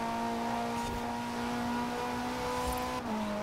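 A BMW S65 V10 engine car in the Forza Horizon video game holds a loud, sustained engine drone at a steady pitch, then briefly drops as a gear change hits near the end, with no talking.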